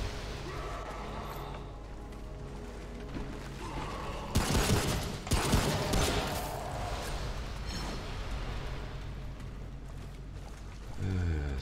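Gunfire in the action game Remnant: From the Ashes, a loud volley of shots in the middle bursting over a low ambient drone, then quieter clatter and another loud hit at the end.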